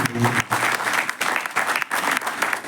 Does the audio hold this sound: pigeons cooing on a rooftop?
no